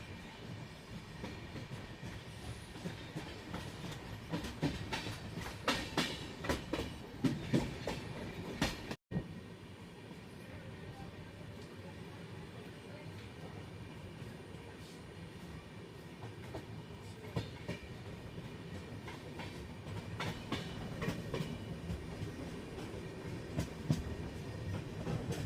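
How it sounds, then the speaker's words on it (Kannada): Rani Chennamma Express runs toward Gokak Road station with a faint, continuous rumble of wheels on track and scattered rhythmic clicks and rattles, heard from inside the train without talk. "ನಮ್ಮ ಟ್ರೈನ್ ಈಗ ಗೋಕಾಕ್ ರೋಡ್ ರೈಲ್ವೆ ಸ್ಟೇಷನ್ಗೆ ಎಂಟ್ರಿ ಆಗ್ತಿದೆ."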